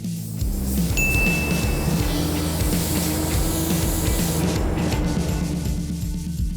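Steady, continuous hiss of a spray gun laying down another coat of paint during a restoration build, loud and close with a constant low mechanical hum underneath, no talk.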